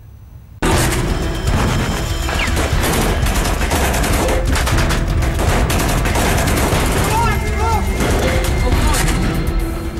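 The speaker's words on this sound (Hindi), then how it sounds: "ये आईएसआईएस की गोलियां हैं जो इसे धर्म को बचाने की लड़ाई कहता है" Sustained, loud gunfire from ISIS fighters in a Syrian war zone, with dense bursts and booms running nonstop after a sudden start.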